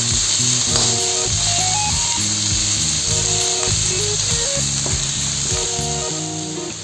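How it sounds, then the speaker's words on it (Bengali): Three medium chopped onions fry in oil, a loud constant hiss and sizzle running throughout with faint clinks, under steady background music. "এইগুলোকে হালকা ভেজে নিতে হবে।"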